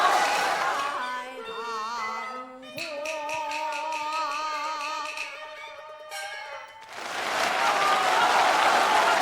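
An audience at a Beijing Opera breaks into applause, a burst of clapping at the start, then a sung melodic passage with instruments, then a loud wave of clapping and cheering at the end.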